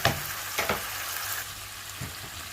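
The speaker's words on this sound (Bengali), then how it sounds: "চিংড়ি আর মশলা একটু কষিয়ে নেওয়ার জন্য" Shrimp and spices fry in a pan with a moderate, continuous sizzle broken by a few soft stirring knocks.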